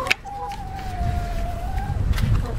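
Polish bantam chickens in a coop give a drawn-out, thin vocal call lasting about two seconds, close by over low rustling and soft background noise, followed by brief clucks.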